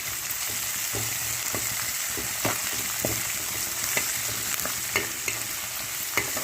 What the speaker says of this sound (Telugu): ఇలా పోపులో వేగించాక కరివేపాకు వేసుకోవాలి